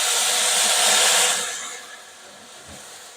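Loud, broad hissing sizzle as boiling water is poured into a hot pot in an oven for ciabatta bread, fading after a second or so into a quieter, steady hiss.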